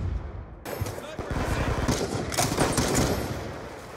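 The Peacekeeper gun fires in a video game in dense, rapid automatic bursts that run almost continuously, loud and close, with a voice talking under the shots.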